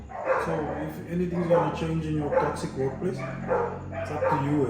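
Dogs bark intermittently in the background beneath continuous close talk, the barks soft and partly buried under the voice throughout.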